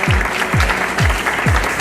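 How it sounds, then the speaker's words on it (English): An audience applauds at a beauty school hair and makeup show, steady dense clapping filling the short clip, with a few low thumps repeating under it. "Round of applause for Camaria."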